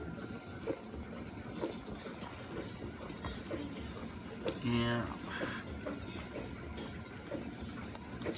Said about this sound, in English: Look at all this water, you hear that? Water is kicking in.